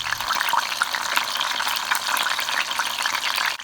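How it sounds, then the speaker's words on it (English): A leg of lamb sears in hot olive oil, giving a loud, dense, unbroken sizzle and crackle that stays even from start to finish with no voices over it. "let's just add the lamb to the hot oil and let's sear it for about"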